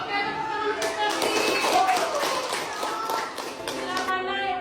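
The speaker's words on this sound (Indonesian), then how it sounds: "tepuk tangan untuk Ferdi" Children in a primary school classroom clap for a classmate, a quick burst of close, fairly loud hand claps and taps, with some shuffling and voices mixed in.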